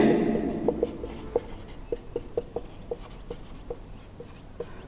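Hand-writing on a board during a class, about a dozen crisp tapping strokes spaced irregularly, close and clear over a faint background hum.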